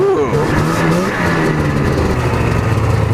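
Yamaha VMAX motorcycle with a failing coolant system, its engine droning and revving loudly throughout a short ride down the road.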